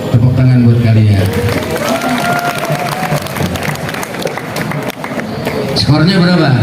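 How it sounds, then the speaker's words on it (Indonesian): A school audience at a religious gathering claps and cheers together, a dense wash of applause that swells, dips briefly, then rises again, with voices mixed in. "Tepuk tangan buat kalian."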